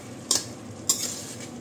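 Beef steak and onions for Filipino bistek are stirred in a pan over high heat, with two sharp scraping clinks of a utensil against the pan over a soft, steady frying hiss.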